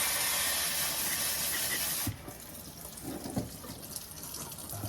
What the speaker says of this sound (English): I just use a vegetable sprayer, and that gets most of the crud off